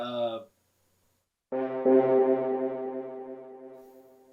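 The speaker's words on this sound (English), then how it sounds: "Using their horns section, their French horn section" A French horn section plays a short note, pause, then a sustained chord that swells and slowly fades, with a full, warm orchestral tone.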